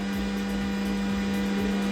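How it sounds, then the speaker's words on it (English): A laser machine running in a workshop gives a steady, continuous drone with a strong sustained hum and a bright high-pitched whine on top, unchanging for the whole stretch, no voices. "you can hear the laser in the background chiming away"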